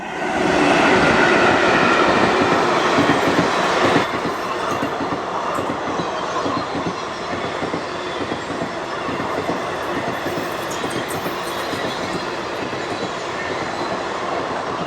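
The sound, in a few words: passenger train arriving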